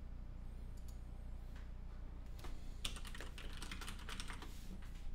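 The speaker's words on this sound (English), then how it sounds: "So if I type like buy computer," Quiet, close typing on a computer keyboard, a soft run of key taps that grows busier in the second half, with no talking over it.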